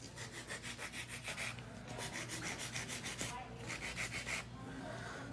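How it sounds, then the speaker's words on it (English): Hand filing of an acrylic nail gives a rapid, even back-and-forth rasp, about three strokes a second, close and fairly quiet, with a brief pause partway through. "So I'm doing a little bit of hand filing here."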